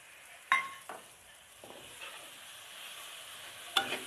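Green chilies drop into a pan of sizzling okra masala, giving a soft, quiet sizzle with a few sharp clinks and spoon taps, the loudest at the start and near the end.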